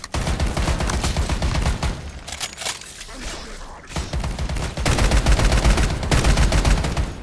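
Roblox guns fire in rapid, sustained volleys of close, loud shots, pausing briefly midway before the shooting resumes and grows heavier toward the end, with no talk audible over it.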